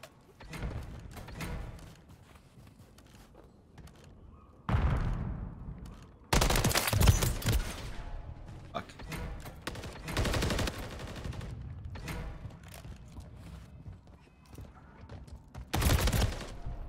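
Bursts of gunfire from a first-person shooter in ranked multiplayer, with an MCW rifle in the loadout: loud, sharp volleys and rapid automatic fire in several separate clusters, with quieter mechanical clicks and movement between them.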